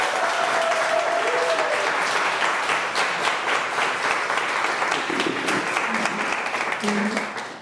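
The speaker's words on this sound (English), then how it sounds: "Let's have a round of applause for Chef Anita Lowe, everybody" A crowd gives a sustained round of applause for Chef Anita Lo at a Diversity & Inclusion Council speaker event, dense clapping at even loudness, with faint voices and a cheer woven underneath.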